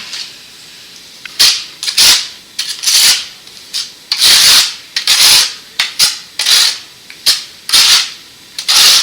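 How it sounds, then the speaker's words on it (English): Tile mortar is swept across the back of a tile in repeated short scraping strokes, close and fairly loud, in an uneven rhythm with brief pauses between passes and no talking. "So I'll place that mortar all over the tile."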